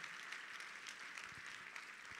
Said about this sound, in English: Please give them a round of applause for these wonderful,